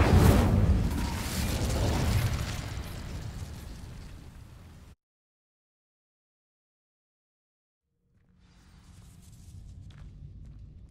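In the Hogwarts Legacy video game, an Incendio fire spell sets dry vines ablaze with a loud burst and roaring crackle that fades, then cuts to silence before faint ambient rumbling and movement return.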